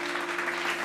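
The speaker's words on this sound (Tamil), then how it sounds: "கைத்தட்டுங்க" A congregation at a church service claps briefly, a steady, moderately loud patter of many hands with a faint low hum underneath.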